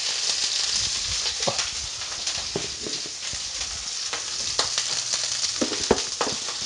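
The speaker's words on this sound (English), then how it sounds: "So pan back on, bit of oil, and then in with the red peppers" Red peppers sizzle in an oiled pan, a close, continuous crackling fry broken by small taps and scrapes from stirring, with no talk.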